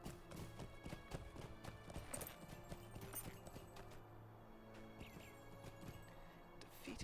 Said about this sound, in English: Okay, let's get on my horse.